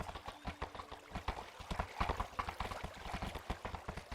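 Horse hooves clip-clop in a steady, rhythmic gait in a video game, the sharp hoof strikes evenly spaced and fairly close throughout.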